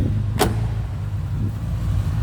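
A 1987 Fiat X1/9 engine idles steadily with a low, even hum throughout, interrupted early by a brief sharp click or clunk, with no voices.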